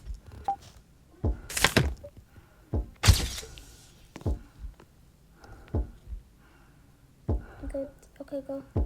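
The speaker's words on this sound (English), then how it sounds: "Can you stop banging the window?" Loud, sharp bangs and thuds on a window, several irregular hits spaced a second or so apart, close by, with people talking in between.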